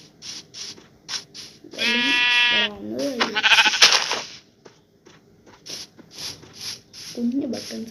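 A goat in a Minecraft-like video game bleats in several wavering cries, close and fairly loud, separated by short gaps and broken up by clicks and rustling game sounds.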